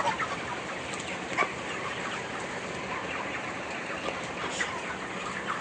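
Broiler chickens in a farm shed cluck faintly and sporadically over a steady, hissy background.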